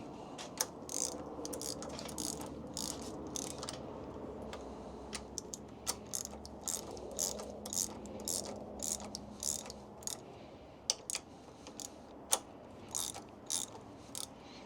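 A ratchet wrench backs out bolts on newly installed motorcycle handlebars on a Harley Dyna, giving a steady stream of quick, sharp clicks at close range with no talking.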